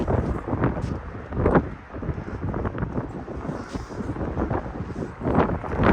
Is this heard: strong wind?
yes